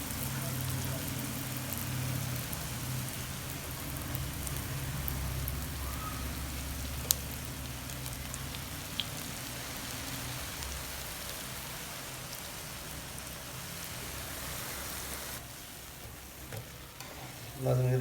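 Jalebi batter frying in hot oil in a small frying pan, giving a steady, close crackling sizzle that runs throughout with occasional faint clicks.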